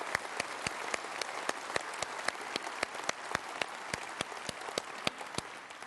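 A Conservative Party audience gives a round of applause at a leadership hustings in Cheltenham: continuous crowd clapping, a full steady roar of many hands with sharp individual claps standing out throughout, no talk.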